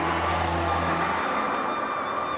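Cartoon-style car engine runs steadily with a low hum, then cuts off about halfway through as the car comes to a stop near an old mansion on the edge of town, leaving only a faint residual hiss.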